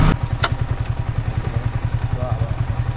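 A motorcycle idles nearby with a steady, pulsing low thump and light clatter, joined by a brief sharp knock near the start while people talk in the background.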